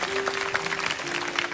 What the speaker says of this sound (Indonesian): Kita kasih tepuk tangan untuk Tuhan.